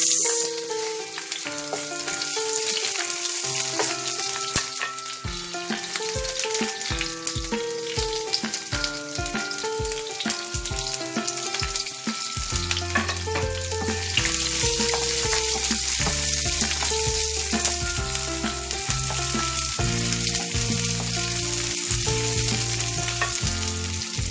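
Onions frying in a pan for ground beef, with a loud, dense, continuous sizzle throughout and occasional faint clinks, with tonal background music running underneath.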